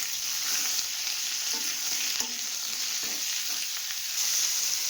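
Beans, potato and aubergine hit hot oil tempered with nigella seeds, giving a steady, fairly quiet sizzle with a few stirring scrapes, close by and without voices.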